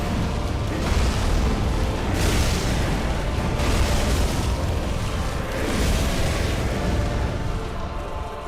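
Booming fire explosions from the Abyss Watcher fire attack in the Archthrones game demo, a dense, continuous roar of blasts and rumbling bursts that stays loud throughout.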